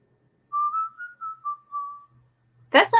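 A clear, high whistled tune, like a whistle or recorder, plays several sustained, gliding notes alone during a live vintage auction sale, then ends with a brief noise.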